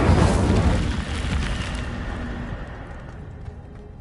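An Incendio fire spell cast in Hogwarts Legacy, a loud roaring burst of flame that hits hard at once and then slowly fades away over a few seconds, with no talking.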